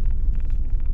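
Congested road traffic in Bangalore on a weekday morning: a loud, close, continuous engine rumble from vehicles in a long jam, with no voices.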